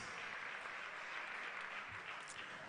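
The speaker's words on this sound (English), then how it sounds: "We want to ask a round of applause for Dr. Angela Lamte, Mrs. Gladys Schwinger, and of course, the one and only Dr. Elsie Kaufman" Faint, distant audience applause for the quiz mistresses at the 2018 NSMQ school quiz finals, a steady wash of clapping that holds evenly throughout with no voices over it.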